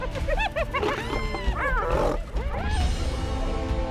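A lion roars in a video game, with deep growling bursts layered over other animal cries and yelps, loud and close, followed by a sustained rumbling roar.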